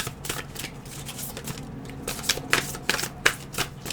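Animal spirit oracle cards being shuffled by hand, a steady run of soft papery riffles and flicks with sharper card snaps toward the end, close and fairly quiet with no voices.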